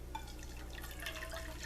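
Two measuring cups of water poured into a small pan for ramen, a soft, quiet trickle and drip throughout, with no talking.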